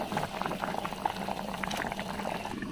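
Water poured onto potatoes and tomatoes frying with salt and turmeric in a home pan, bubbling and boiling steadily up close, a continuous wet gurgling hiss with no voices.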